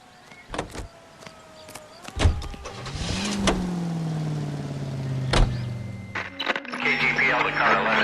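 A car in the 1940s Los Angeles crime game L.A. Noire: a few door thuds, then the engine revs up and holds a steady drone while driving, with voices talking over it.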